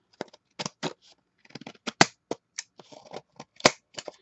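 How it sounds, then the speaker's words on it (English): Scissors snip paper for a December Daily craft album, a run of close, crisp cuts in irregular bursts with brief rustles and pauses between. "Got some janky scissors now."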